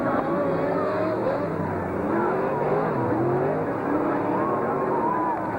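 NZ stockcars race past with lead car number 42 coming round, a loud, continuous roar of several engines with shifting, overlapping pitches.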